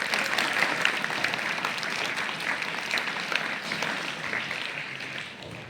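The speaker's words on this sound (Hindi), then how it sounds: "एक बार मैडम के लिए जोरदार तालियां।" A school audience at a ceremony honouring national boxing champions applauds a teacher, steady continuous clapping from a crowd that fills the whole stretch, moderately loud, then tapering slightly at the end.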